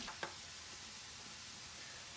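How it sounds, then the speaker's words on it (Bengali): Potatoes frying in hot oil in a pan give a steady, soft broadband sizzle with a brief clatter near the start. No one talks. "আলুগুলো ভালো করে ভাজবো।"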